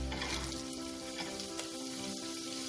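Spring onion, carrot, capsicum and cabbage stir-fry in hot oil for an Indo-Chinese chicken manchow soup, a steady close sizzle with occasional scraping from stirring, no voices.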